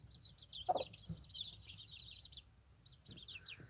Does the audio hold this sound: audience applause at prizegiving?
no